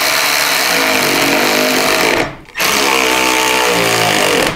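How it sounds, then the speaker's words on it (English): A power tool runs loud and steady close by as it snugs down a nylock nut on a rear air suspension install. It pauses briefly partway through, then resumes for a second sustained burst. "Now we can go ahead and snug this down."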